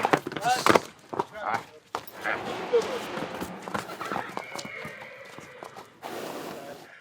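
An English mare's hooves clip-clop on hard ground in uneven, nearby steps, mixed with rustling and knocks, while someone talks over the sound.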